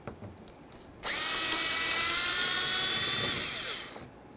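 A power drill backs a T20 screw out of the driver's side mirror on a 2003-07 Chevy Silverado, whirring loud and steady for about three seconds before spinning down.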